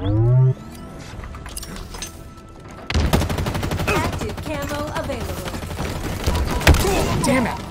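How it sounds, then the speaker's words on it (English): Many grenades go off at once in the shooter game Halo Infinite, a dense barrage of loud blasts and gunfire after a brief lull, continuing for several seconds. "so many grenades all at the same time"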